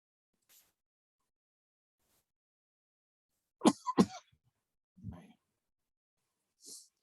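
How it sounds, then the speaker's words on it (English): A couple of sharp, close coughs in quick succession, followed by a smaller cough and a faint throat noise, with silence around them. "sorry about all the coughing."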